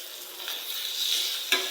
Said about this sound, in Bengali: আর চিংড়ি মাছটা দিয়ে এই পেঁয়াজটা আরও কিছুক্ষণ ভাজবো